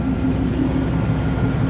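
An old station wagon engine idles steadily, its exhaust rumbling through a rusted muffler with a rust hole, giving a continuous low, rough drone close by.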